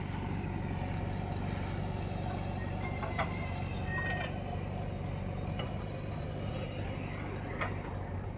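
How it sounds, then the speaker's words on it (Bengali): Mahindra Novo tractors rumble along a pond bank while hauling soil, a steady low engine drone at middle distance with faint clanks and squeaks above it. "তো দেখতে পাচ্ছেন পুকুরের পারে পারে চলে যাচ্ছে গাড়িগুলো।"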